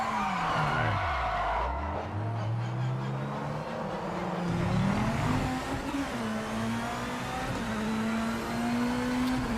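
A race car in the Project Motor Racing game drives hard, its engine note climbing and falling through the gears with tire squeal and skidding over a continuous loud drone.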